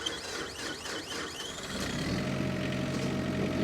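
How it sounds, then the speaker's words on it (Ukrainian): A Mitsubishi GO26 compact tractor's small diesel engine idles steadily and smoothly, a low continuous rumble that grows slightly fuller partway through, with some clatter early on. "Я сподіваюся, що мікрофон вам передає, наскільки м'яко працює двигун."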